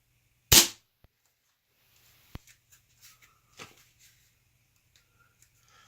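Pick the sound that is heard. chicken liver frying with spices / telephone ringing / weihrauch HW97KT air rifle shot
weihrauch HW97KT air rifle shot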